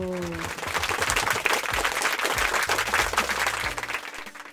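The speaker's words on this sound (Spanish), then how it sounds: "a quien debemos recibir con un muy fuerte aplauso" Audience applause greeting a guest at a Spanish-language science presentation, a dense steady patter of many hands clapping loudly throughout, with a voice briefly heard over it at the start.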